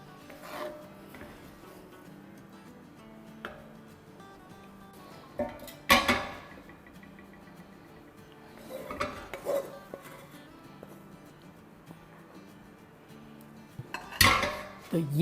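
A spoon scrapes cooked one-pot food out of a cooking pot into another bowl, giving sporadic rasping scrapes and metallic clinks with quiet gaps between them.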